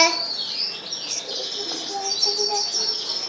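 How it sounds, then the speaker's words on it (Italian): Pet canaries chirp and tweet in a continuous high twittering chorus close by, with short trills throughout and a faint voice underneath. "Questo è penso degli uccellini"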